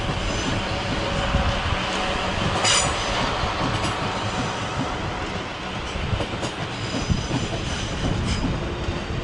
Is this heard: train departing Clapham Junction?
yes